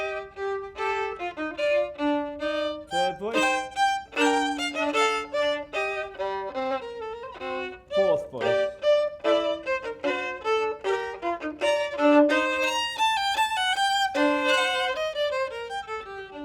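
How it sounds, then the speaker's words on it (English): Bach fugue performed with four interweaving melodic voices, a steady flow of overlapping tonal lines entering and answering one another, continuous and moderately loud with no talking. "So the whole interaction between the four voices sounds like this."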